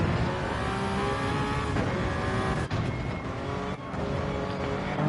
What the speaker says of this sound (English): He is going crazy with the downshifts into 1